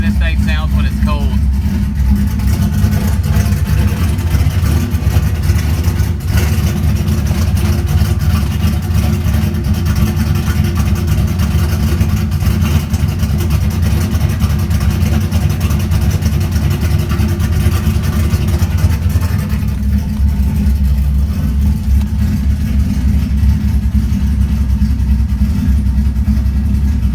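A street car engine runs cold, loud and close, with a deep, lumpy, continuous idle that swells in brief blips of revving throughout, with a small dip near the twenty-second mark.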